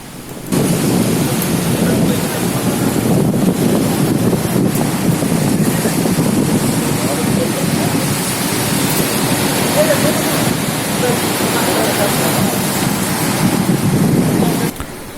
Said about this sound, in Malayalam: ഇവിടെ ചെറുതായിട്ട് മഴ പെയ്യുന്നുണ്ട്.